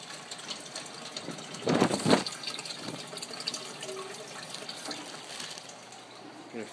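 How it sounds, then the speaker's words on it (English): Water trickles into a small glass test vial drawn from a fish tank, with a brief louder splashing pour in the middle and quieter dripping and running before and after, close by with no talking. "I'm going to fill one of these vials up to the line."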